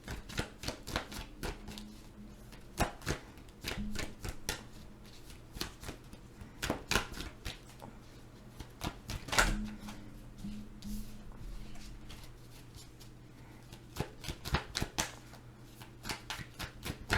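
Tarot cards are shuffled in repeated quick riffling bursts with soft slaps and pauses between, close and fairly quiet, with no voices.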